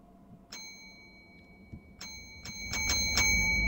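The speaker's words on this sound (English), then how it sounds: "Yay! Little bells." Small bright bells chime in a video game, in a quick scattered sequence, a few single dings at first then a cluster of rapid rings, clear and fairly quiet.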